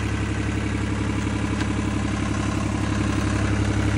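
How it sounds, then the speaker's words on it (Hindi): A New Holland 3630 tractor engine runs steadily with a continuous low throbbing drone and slight clatter, close and loud throughout, with no talking. "इतने स्लिप मारता ट्रैक्टर क्योंकि जोर नहीं ना लगा रहा मैं"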